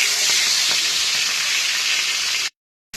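Katla fish pieces frying in hot white oil in a wok, a loud, dense, continuous sizzle heard close up that cuts off abruptly near the end.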